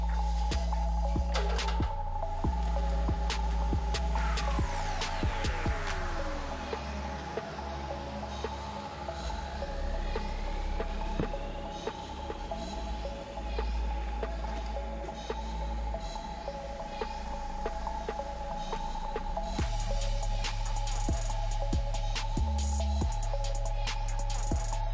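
A machine pumps insulating mortar of EPS granules through a hose, producing a continuous mechanical hum with a steady whine, occasional sweeping tones and clunks, with no voices.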